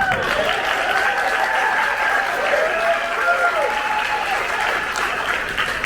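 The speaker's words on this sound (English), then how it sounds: "Applause to Mr. Russell." On an 80s-themed cruise, an audience applauds during an interview with a steady bed of clapping that runs under a speaking voice for the whole stretch.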